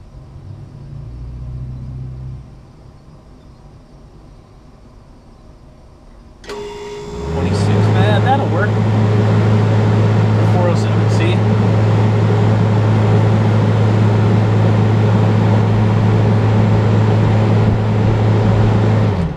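An HVAC system kicks on partway through after a quieter stretch, its compressor settling into a loud, steady hum with a strong low drone that runs unbroken to the end.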